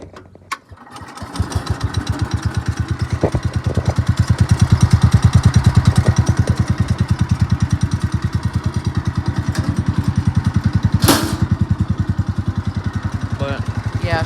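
An old Cub Cadet 71 lawn tractor from the late 1960s or early 1970s cranks and starts, then runs at a loud, steady thumping idle close by, with a brief clattering burst partway through.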